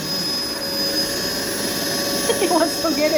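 A vacuum cleaner running over carpet makes a steady, loud whining drone that lasts throughout, while voices talk over it.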